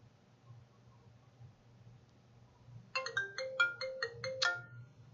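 An iPhone 5C ringtone plays through its ringer speaker as a bright, repeating electronic melody that starts suddenly after a quiet hum and is heard close and moderately loud.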